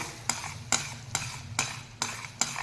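Rhythmic scraping of a spoon through thick gram flour batter for pithla in a pot, six evenly spaced strokes with no voices.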